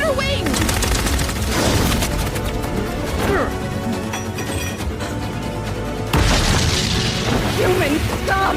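Rapid anime battle gunfire with booming impacts, a dense continuous barrage of shots and crashes at high loudness, mixed with shouting voices and music.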